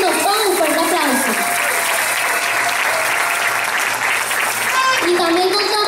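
An audience at a teen beauty pageant gala in Venezuela applauds loudly and continuously, with an amplified announcer's voice talking over the clapping.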